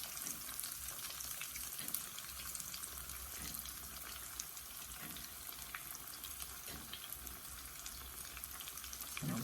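Jalapeño poppers frying in oil, a dense, even crackling sizzle that holds steady throughout, fairly quiet, with faint occasional pops and no talk.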